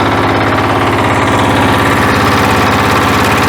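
A diesel walk-behind tractor engine idles in neutral, a steady, loud, close chugging with a constant low pulse and no speech over it.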